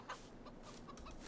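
Faint chickens cluck softly in Farming Simulator 22, a low murmur of short clucks under steady background noise.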